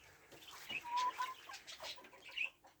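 Hens cluck in short, scattered bursts close by, several birds overlapping softly with a few sharper calls.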